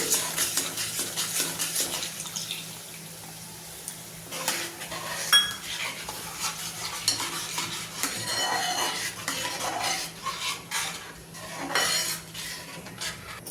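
Spinach curry in a pan is stirred after water is added, the spoon scraping and clinking against the metal vessel in bursts, with wet sloshing and occasional louder knocks, close by and without speech.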